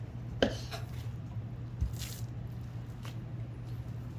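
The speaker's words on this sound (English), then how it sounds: "Push it down, slice, push it down, slice." A knife slices through raw beef brisket during trimming, giving a couple of soft, wet squishing cuts over a steady background hum, close and fairly quiet.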